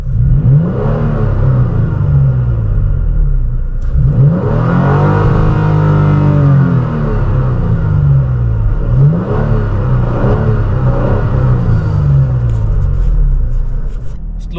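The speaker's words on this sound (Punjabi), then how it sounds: "ਇਹਦਾ ਐਗਜ਼ੌਸਟ ਵੀ ਕਾਫੀ ਡੀਸੈਂਟ ਆ ਇਨਸਾਈਡ ਦਾ ਸਾਊਂਡ ਤੁਹਾਨੂੰ ਸੁਣਾਉਂਦੇ ਆ" Exhaust of a 2023 Toyota Tacoma TRD Pro truck heard from inside the cabin, a steady loud engine rumble with repeated rising revs as it accelerates, swelling and easing several times.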